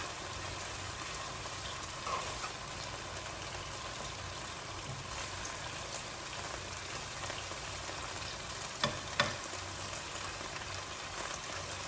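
Chop suey vegetables fry in pots on a stove, giving a faint, steady crackling sizzle throughout with a couple of brief clunks near the end.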